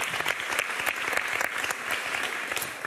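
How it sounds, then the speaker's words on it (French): Studio audience clapping steadily on a French TV game show, dense and even applause for a few seconds with no voices on top. "Monsieur, on peut l'applaudir quand même"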